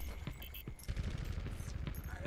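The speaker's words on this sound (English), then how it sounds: "right click is to just shoot rapid fire" Rapid-fire gunshots in the Overwatch video game, a fast run of dense repeated bangs at close range with a few lighter pops, mixed with other game effects.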